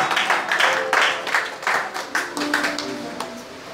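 A church congregation claps and applauds together in praise, a broad ragged burst of hands that swells and then thins out, fairly close and loud in a reverberant hall.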